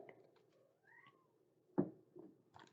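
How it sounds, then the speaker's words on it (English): An agitated cat meows in a few short, rising cries, faint and somewhat distant, with a sharp knock partway through. "Can you hear the cat? Cat's throwing a fit about something."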